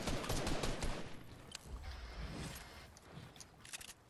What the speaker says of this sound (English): they were shooting at me